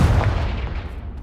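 A Confringo fire spell in Hogwarts Legacy goes off as one close, heavy blast with a deep boom that fades out over about a second.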